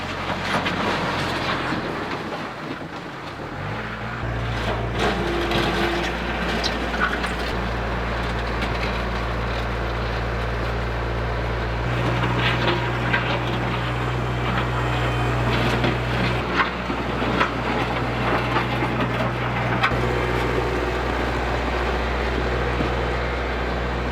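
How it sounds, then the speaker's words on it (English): A tractor pushing dirt on an off-grid homestead, its engine droning steadily and loudly close by with a deep continuous rumble and shifting load, no talking. "I'm gonna get the tractor and push some dirt"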